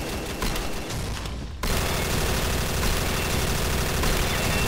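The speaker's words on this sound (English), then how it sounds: "He's trying to really waste bullets" Gunfire in the online shooter Combat Arms Reloaded, loud continuous automatic bursts that drop briefly and then resume as a dense, unbroken stream of rapid shots.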